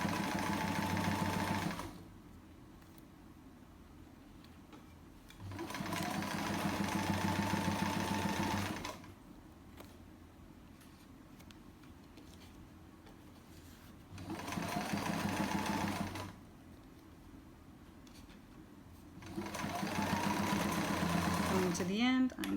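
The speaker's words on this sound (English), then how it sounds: "I'm going to reverse stitch to get back across." Sewing machine stitching and reverse stitching fabric for chair pouches in several bursts of fast mechanical whirring, separated by quieter gaps with a voice talking, the last burst ending in a short whine.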